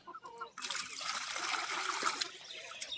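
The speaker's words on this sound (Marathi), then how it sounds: "तर पहिले आपण याच्यामध्ये थोडं पाणी टाकून घेऊ" Water being poured into a container for deworming free-range desi hens, a steady splashing trickle that starts abruptly and runs on close by, with faint sounds before it begins.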